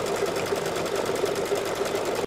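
An embroidery machine stitches a placement line on a phone case project, giving a steady, rapid mechanical needle chatter that is close and loud, with no voices.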